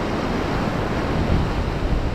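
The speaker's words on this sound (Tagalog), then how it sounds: "Ngayon na lumusong kayo, nagkaalon na ano, malalaki." Big sea waves and wind roar steadily around a small fishing boat at sea, a dense continuous rush of surf with wind buffeting the microphone, loud and close, with no voices.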